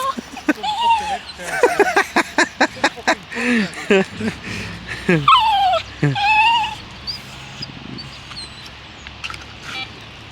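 A pet dog whimpers and yips in short, repeated high cries while playing outdoors at a lakeside fishery, with people talking nearby.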